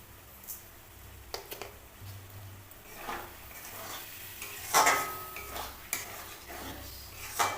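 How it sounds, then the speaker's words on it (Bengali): Palak paneer with sugar stirred in a pan, quiet scattered clinks and scrapes of a spoon on metal, with a couple of louder knocks near the middle, no talking. "এবারে ওখানে চিনি দিয়ে নেড়ে নামিয়ে দেবো।"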